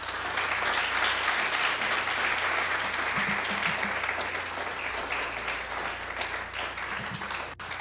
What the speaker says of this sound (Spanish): Puedes darle un aplauso a Cristo.